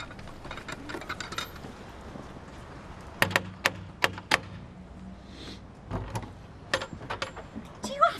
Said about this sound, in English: Do you have to knock so loud?